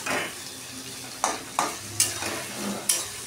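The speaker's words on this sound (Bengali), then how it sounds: "পেঁয়াজটা একটু ভাজা হবে।" Onion frying in a pan gives a soft sizzle beneath sharp scraping and clinking of a spatula stirring against the pan, several distinct stirring strokes at close range.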